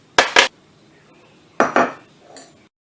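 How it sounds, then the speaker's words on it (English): Metal clanks and clattering as a pizza pan holding a broccoli cauliflower tater tot crust pizza is slid back into an oven, two quick pairs of loud knocks with a softer rattle after, no talking. "And back into the oven we go."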